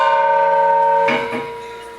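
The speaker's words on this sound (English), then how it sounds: "Bigger church bell." A 30-inch metal propeller rings out like a bell, a sustained bright tone with humming overtones, struck again once before slowly fading.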